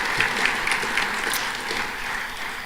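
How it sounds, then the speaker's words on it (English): Attendees at a young leaders awards recognition event give a round of applause for community sponsors, a short burst of steady clapping from a room full of people, fairly loud and unbroken. "Can we give them a round of applause?"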